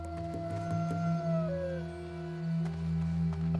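A wolf howl in World of Warcraft, a drawn-out tonal wail that bends downward midway, moderately loud over steady game music and ambient drone, with no voices.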